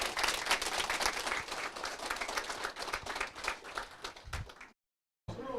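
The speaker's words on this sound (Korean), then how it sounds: "박수 부탁드립니다." An audience applauds steadily after a lecture, dense clapping filling the room for several seconds before cutting off abruptly.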